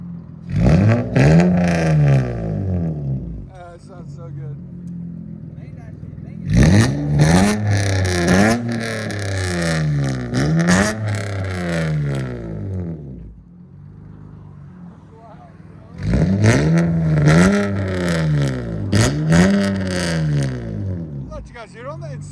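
A 2004-2008 Acura TL with a 3.2L V6 and an extreme aftermarket exhaust revs hard in three separate bursts, each a rising and falling howl. Quieter idling fills the gaps between the blips.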